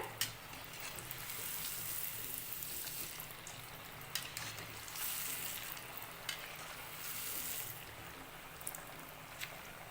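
Farali vada deep-frying in hot oil over a medium flame, producing a continuous bubbling sizzle with scattered crackles and pops, moderately quiet and close.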